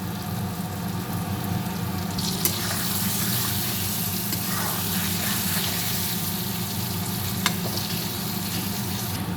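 Mankochu (giant taro) fries with fish and slit green chillies in a pan, a steady dense sizzle with occasional stirring scrapes and clinks, close and continuous without speech.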